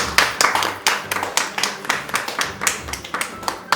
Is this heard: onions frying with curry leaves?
no